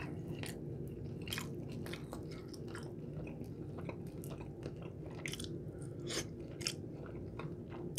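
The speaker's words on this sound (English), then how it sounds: "So watch, I'll take a bite." Close, crunchy bites and wet chewing of lemon pepper and hot honey chicken wings, a dense run of small crackles and smacks over soft steady background noise, with no talk.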